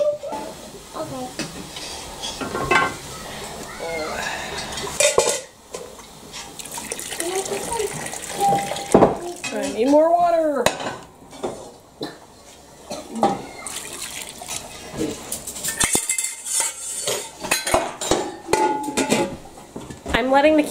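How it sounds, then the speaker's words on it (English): Metal utensils scrape and clink against a pan of blueberry jam over running water, with people talking throughout and occasional louder clatters. "the kids like scraping out the pan"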